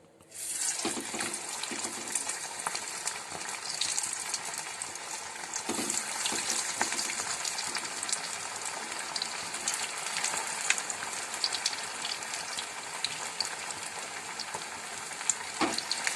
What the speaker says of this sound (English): So now I'll be frying my protein wale lollipops.